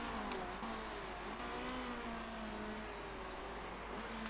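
Race car engines in the Motorsport Manager endurance series give a steady, layered high whine that drones continuously with shifting pitches, like several cars circulating on track.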